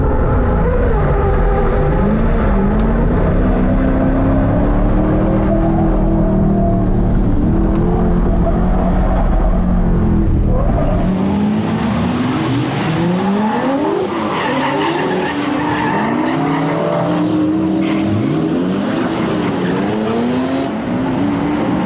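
A car drifts around a track, its engine roaring continuously at close range while the tires squeal in long rising and falling wails, the howl shifting partway through as the slide changes.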